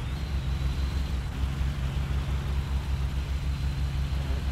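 A fire truck's engine runs steadily while driving the water pump at a van fire, a loud, continuous low throbbing drone with a faint high whine above it and no voices.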